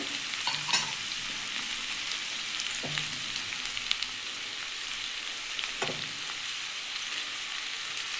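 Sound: ground spices frying and being stirred with tomato

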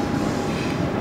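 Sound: train passing over a train bridge

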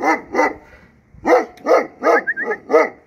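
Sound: dog barking loudly

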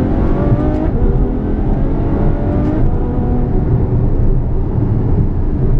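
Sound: Ferrari V12 downshifting, exhaust

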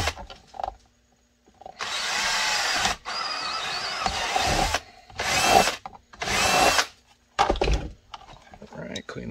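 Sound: power drill drilling

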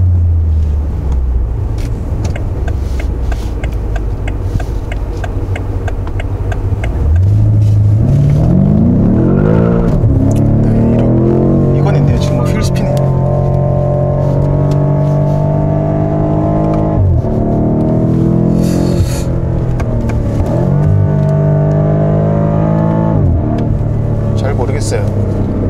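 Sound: BMW M5 F90 car accelerating during test drive

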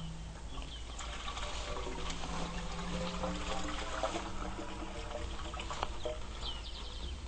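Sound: water flowing into an emergency well bucket

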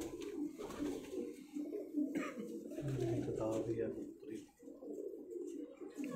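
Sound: pigeons cooing in a breeding loft

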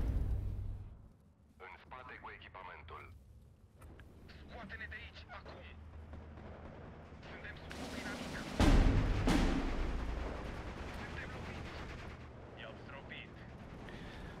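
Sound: artillery and gunfire in the video game Steel Division 2

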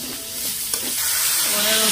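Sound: snail and hog plum curry masala frying in pan

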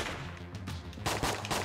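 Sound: bullet gun firing in video game Enter the Gungeon

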